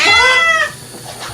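A cat yowls loudly after being dunked in water, one long harsh meow close up that fades and trails off into quieter strained noises.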